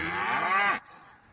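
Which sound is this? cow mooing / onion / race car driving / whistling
cow mooing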